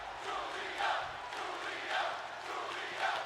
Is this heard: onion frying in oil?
no